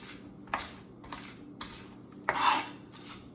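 A kitchen knife smashing and scraping garlic with coarse kosher salt on a board, heard as several separate close scraping strokes about half a second apart, one longer and stronger than the rest, with no talking.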